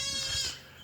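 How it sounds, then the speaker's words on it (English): Goats on a farm bleat loudly and harshly in a strained, wavering cry that swells and then trails off, close by and heard alone. "those goats sound like they're tortured"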